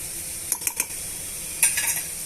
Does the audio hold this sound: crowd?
no